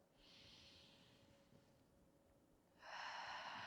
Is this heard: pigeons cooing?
no